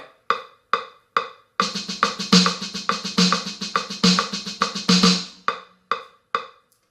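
Sharp drum strokes count off a few single hits, then break into a fast, steady run of accented notes in a double paradiddle sextuplet exercise before slowing back to spaced hits.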